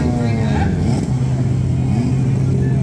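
A Nissan Skyline GT-R R32 drag car at a drag strip revs hard in a loud, continuous low roar with wavering pitch. Voices talk over the engine throughout.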